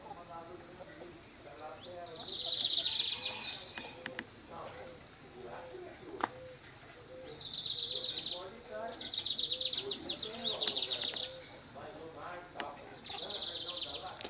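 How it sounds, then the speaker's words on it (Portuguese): A small bird sings outdoors on a rural farm property, giving several short high trilling bursts spaced a few seconds apart, moderately close, while people talk nearby. "Que passarinho será esse?"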